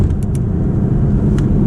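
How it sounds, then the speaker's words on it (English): Audi R8 Performance engine cruising in comfort mode: a steady, low, muted drone with road rumble, subdued and even, with a few faint ticks on top. "if I put engine sound standard and now drive in comfort mode"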